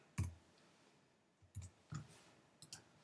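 A few soft, scattered key clicks on a keyboard while a short message is typed, faint and close, in uneven taps separated by brief pauses.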